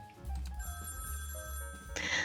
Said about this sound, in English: My alarm clock on the phone rings, letting me know that there's not much free time left